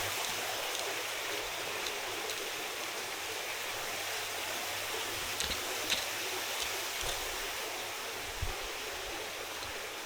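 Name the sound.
water fountain in a garden pond at a mosque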